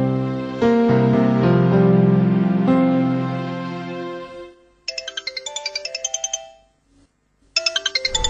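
Mobile phone ringtone for an incoming call chimes in two bursts of rapid repeated electronic tones after a stretch of sustained musical tones, loud and close, with no talking.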